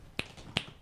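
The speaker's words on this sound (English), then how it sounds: "Snaps." Two crisp finger snaps, close and clear, land about a third of a second apart against a quiet background.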